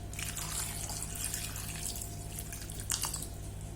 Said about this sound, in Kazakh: Енді суық су құямыз.